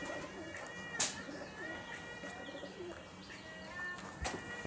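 Rajshahi Giribaz pigeons coo softly in the background, with faint low calls and a couple of sharp flutters or clicks, under a quiet room ambience.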